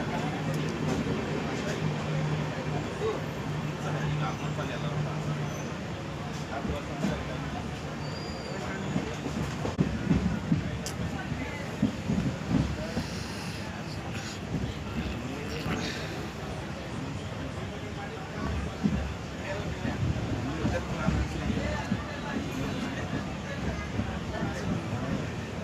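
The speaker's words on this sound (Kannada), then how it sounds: "ನಮ್ಮ ಟ್ರೈನ್ ಈಗ ಗುಳೇದಗುಡ್ಡ ಸ್ಟೇಷನ್ ಹತ್ತಿರ ಸಮೀಪಿಸುತ್ತಾ ಇದೆ" The 16548 Vijayapur–Yeshwantpur Express nears Guledagudda Road station, heard from aboard as a steady, close rolling rumble with faint rhythmic clatter that runs unbroken the whole time.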